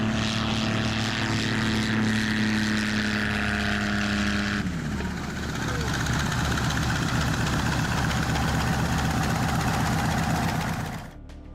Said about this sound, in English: A Robinson R-44 helicopter was forced to make an emergency landing on the rooftop of a building in Guatemala City on June 12, 2025.